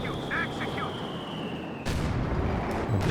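Panzer IV tank cannon firing in Company of Heroes 2, a sudden loud boom breaking into a dense, continuous wash of battlefield noise, with a second sharper blast near the end.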